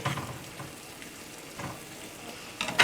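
Sloppy joe meat sizzling in a pan on the stove, a steady soft frying hiss with small pops and a brief stirring scrape near the end.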